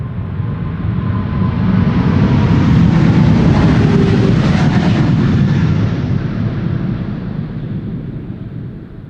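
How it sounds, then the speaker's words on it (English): A 24-year-old United Boeing 777-200 airliner takes off at Schiphol, its jet roar building to a loud, broad rumble that swells and then slowly fades over several seconds, with wind buffeting the microphone. "Another 777-200 going to Houston, United flight 21, 24 years old this airplane"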